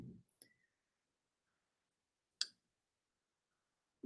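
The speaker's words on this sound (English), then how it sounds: "every time you hear that clicking noise, that means they clicked on your site" A few sharp, isolated mouse clicks from a website visitor's session recording, spaced apart in near silence, close and crisp.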